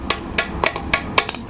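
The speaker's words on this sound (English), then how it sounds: "Take a hammer and gently" A hammer gently taps the bar clamp on a scooter, about eight light metallic knocks spaced roughly every quarter second, crisp and close with no talking.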